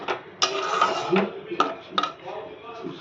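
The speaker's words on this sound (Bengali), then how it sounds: "এই সব কিছু দিয়ে নাড়াচাড়া করে আমি নামিয়ে দেবো" A utensil stirs shahi paneer with roasted, crushed kasuri methi in a pan, giving a few sharp metallic clinks and scrapes at irregular intervals over a soft, steady kitchen background.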